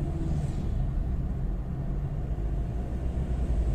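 A Ford Ranger engine with a mass airflow sensor fault and MAP/MAF correlation errors runs with a low, continuous rumble, heard close with no talk.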